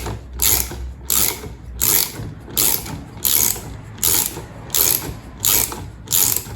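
Ratchet wrench tightening the rear shock on a BMW Z4, clicking in nine evenly spaced bursts of rapid pawl ticks, close and loud with no talking.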